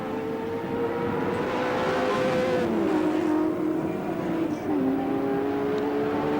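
Touring cars racing at Oran Park in 1983, engines droning loudly and steadily as they pass, with pitch shifting down through gear changes and a brief dip before the roar picks up again.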